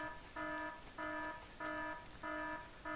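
An alarm in the video game Factorio sounds as a repeating electronic beeping tone, five evenly spaced pulses about half a second each, clear but fairly quiet, with no talk.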